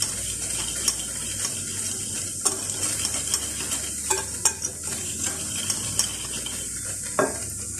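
A whisk or spoon stirring sugar, vanilla and pastry cream together in a bowl, with steady scraping and irregular light clicks over a constant background hiss, close and with no talk.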